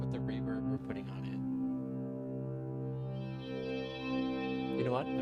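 Sustained dungeon synth drone pad with heavy reverb, built in Ableton and run through a 4x10 bass cabinet modeler, holding steady layered tones with a swelling wash over several seconds, briefly broken by short bursts of sound.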